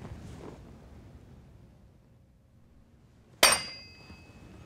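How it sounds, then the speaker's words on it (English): A single sharp metallic clink as a soft mallet taps a retaining ring onto a sprocket shaft, ringing briefly after a quiet stretch of faint background noise. "Use the small end of the scrunch and soft mallet to engage the retaining ring back on the shaft."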